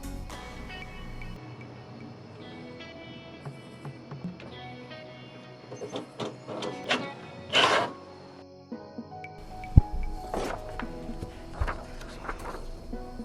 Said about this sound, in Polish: Aby sprawdzić wynik czyszczenia, wykonamy teraz wydruk testowy.